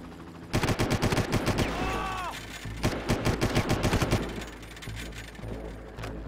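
Rapid gunfire bursts from the video game Far Cry, loud and close, with clustered shots in two volleys amid clanking mechanical game sounds and a brief whistling tone.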